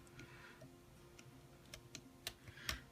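Rainbow loom rubber bands click and pop close by while a Snicker Doodle bracelet is made. The sharp taps come a handful at a time, at an irregular pace, quiet against a soft room hum.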